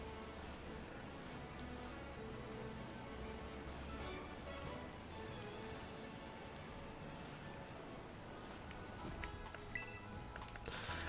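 Rain weather effect in Pokémon Violet, a faint steady wash of rainfall noise with game sounds, low in level.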